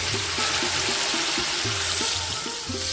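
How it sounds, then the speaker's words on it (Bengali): Water poured into spice masala that has been fried in oil until the oil separates, for a raw plantain kofta curry: a steady, close splashing pour running through the whole stretch. "এবার আমি এতে দিয়ে দেবো পরিমাণ মতো জল।"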